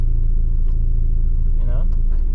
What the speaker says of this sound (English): Like, this is third gear. There's a lot of shaky.